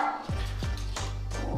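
A small dog barks indoors, four sharp, evenly spaced barks, close and fairly loud, with no one talking.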